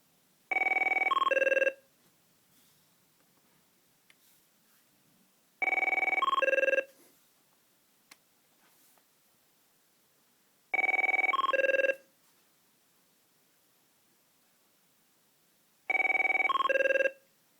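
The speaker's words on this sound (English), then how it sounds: "I'm going to go ahead and ring the phone for you." A Merlin personal ringtone plays on a ringing phone, four identical bursts of bright melodic tones, each about two seconds long, repeating roughly every five seconds with near silence between them.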